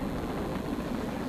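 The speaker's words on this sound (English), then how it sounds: "Bunch of bloody helicopters." Helicopters in the video game Batman: Arkham City produce a continuous low, throbbing engine and rotor drone that stays loud and steady throughout, with no speech.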